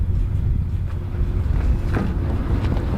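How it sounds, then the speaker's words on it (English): Strong wind buffets the microphone on an open disc golf course during the final round of a tournament, a steady low rumbling roar that swells in gusts throughout, with no voices. "it was super windy on this day"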